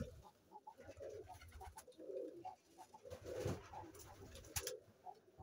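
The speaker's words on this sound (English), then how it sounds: "These are really great birds, especially, and they sound cool." Soft, repeated low cooing of pigeons, several overlapping calls in a steady rhythm, with some faint rustling and clicks in the background.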